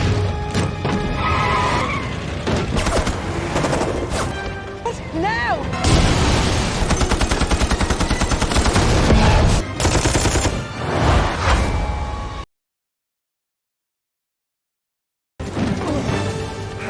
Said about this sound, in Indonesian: aksi tembak pun tak terhindarkan